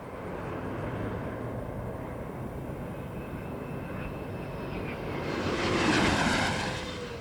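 The Space Shuttle Discovery rolls out on runway 33 after landing, heard as a steady broad roar of rushing air and engine-like noise that swells louder toward the end, with no voices.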